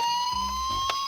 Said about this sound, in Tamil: ஆம் நண்பர்களே, அது ஒரு ஆம்புலன்ஸ் தான்.